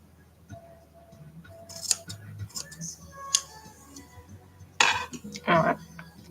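Cheap scissors snip while someone makes art dolls: a few sharp, close metallic cuts and clicks, spaced irregularly, with a louder cluster of snips near the end over a quiet room.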